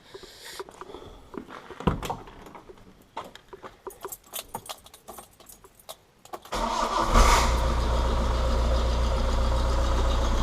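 A 1993 Ford Transit camper van engine cranks and fires up after a stretch of clicking, key and handling noises, then settles into a loud, steady running idle close by with no talking.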